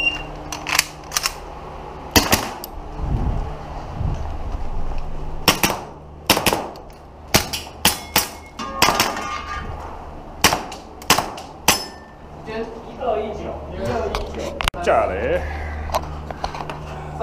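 Sharp gunshots at a target shooting practice session, fired singly and in quick pairs, loud and close, with people talking between the shots.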